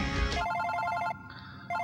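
A phone ringtone in the video game Super Paper Mario, a bright electronic ring in repeating tonal bursts with a short pause between them, close and clear with no talking.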